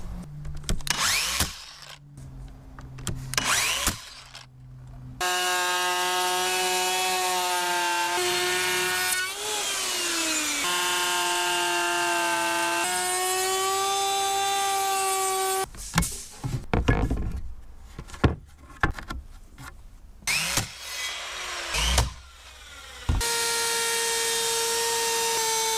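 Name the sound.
router cutting grooves in pallet wood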